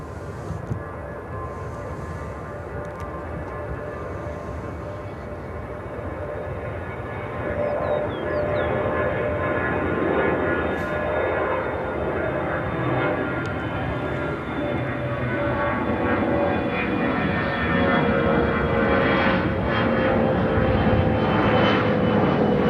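An ITA Airways Airbus A330-200 from Rome lands on runway 27 center at Chicago O'Hare, its engines a loud, steady roar that slowly swells over the full stretch with a broad rumbling wash.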